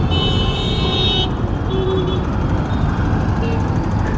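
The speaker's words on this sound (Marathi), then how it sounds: "रिक्षा आले मध्ये" An auto rickshaw passes loudly on a street, its engine drone steady and close with a short horn-like tone early on, while a voice talks alongside.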